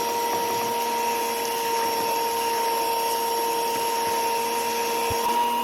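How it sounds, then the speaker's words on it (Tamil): Electric hand beater whirring steadily and loudly as sugar is beaten into cake batter, a continuous motor drone with a high whine and no pauses. "நான் எலக்ட்ரிக் பீட்ரு வச்சு தான் பீட் பண்ணிகிட்ருக்கிறேன்."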